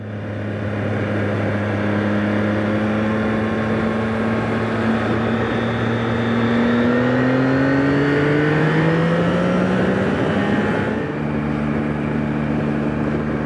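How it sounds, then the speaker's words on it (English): A 2024 Yamaha MT-09 motorcycle engine revs up hard, its pitch climbing steadily over several seconds, then drops abruptly as it shifts and keeps pulling, loud and close. "That acceleration is crazy."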